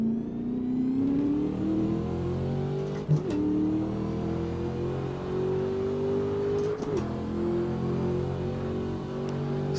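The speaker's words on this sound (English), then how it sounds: "one of the first cars I've ever heard in Assetto Corsa that has like good supercharger sounds" A supercharged car engine in the racing game Assetto Corsa revs steadily with a rising supercharger whine layered over the drone, close and continuous, with a couple of brief clunks as gears shift.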